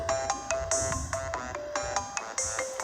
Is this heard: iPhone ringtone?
yes